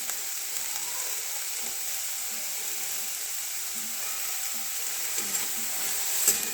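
Sweet corn kernels frying in a pan for chicken soup, giving an even, continuous close sizzle with little variation and a faint clink near the end.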